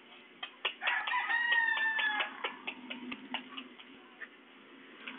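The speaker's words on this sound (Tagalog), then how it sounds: "Tawagin mo na yung manok." A chicken crowing once, followed by soft clucking and scattered clicks, faint and close with a thin, band-limited quality.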